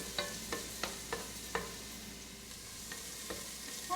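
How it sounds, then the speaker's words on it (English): Onions sautéing in a tablespoon of vegetable oil in a pan make a soft, steady sizzle. Sharp spoon-on-pan clacks come every half second or so, then thin out. "I am going to add a tablespoon of vegetable oil into my pan along with my onions. And I'm going to saute them for a couple of minutes."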